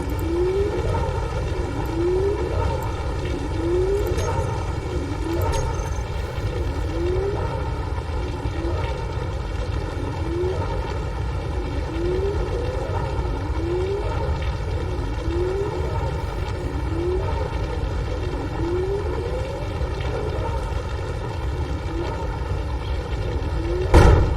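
A steady, droning mechanical grind of a drill rig boring into rock in Space Engineers, with a rising whine repeating every couple of seconds, continuous and loud, with no voices.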